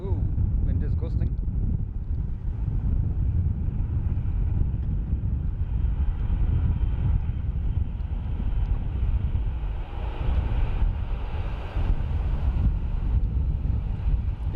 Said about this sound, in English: Ooh, wind is gusting.